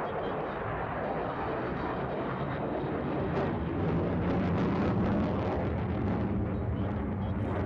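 A Sukhoi Su-57 fighter jet performs a pedal turn during a flight display, its engines producing a loud, continuous broadband roar that swells in the middle and stays steady throughout, with no talk over it.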